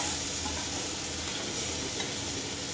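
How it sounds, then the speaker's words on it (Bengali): Prawns sizzling steadily in hot oil with fried spices while being stirred for a jackfruit and prawn curry, a continuous close frying hiss with no talk. "মশলা ভাজা হয়ে গেছে, এবার আমি চিংড়ি মাছ দেবো।"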